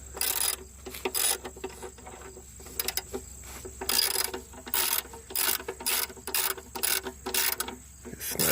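A ratchet snaps a bolt tight during an oil change on a 1991 Buick Skylark, clicking in quick, rhythmic bursts of close, crisp strokes with short pauses between them.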